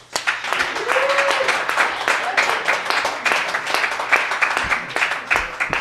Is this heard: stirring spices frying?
no